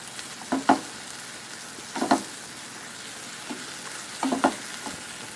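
Tomatoes fry in a pan with a steady low sizzle, broken by three bursts of stirring scrapes spaced about two seconds apart, close and fairly loud, with no talk.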